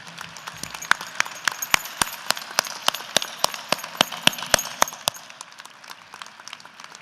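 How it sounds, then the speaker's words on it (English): Sparse, distinct handclaps ring out one by one at a UW–Madison winter commencement, sharp and fairly close, in a slow irregular rhythm rather than a full ovation. "So can I get a huge round of applause as a token of appreciation?"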